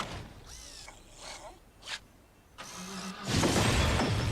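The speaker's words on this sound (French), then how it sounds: "Bleuet, démarre la voiture." A car engine is started in a few short cranking bursts that give way to a louder, sustained broadband engine roar near the end, heard up close.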